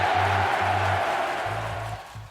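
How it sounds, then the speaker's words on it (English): A baseball stadium crowd of about 34,000 fans cheers, a broad steady roar that fades slightly toward the end, with low humming tones pulsing underneath. "The crowd is going absolutely mental."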